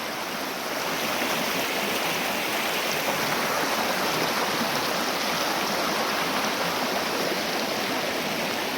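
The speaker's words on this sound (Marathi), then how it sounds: "नदी बघा कशी खडखड वाहत आहे नदी" Loud, continuous rushing of river water, a dense steady roar that holds evenly throughout with no voices.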